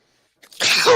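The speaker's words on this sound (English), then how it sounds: "You have to sneeze, recoil." A single sneeze, close and loud, with a short inhaled buildup before a sharp, breathy burst.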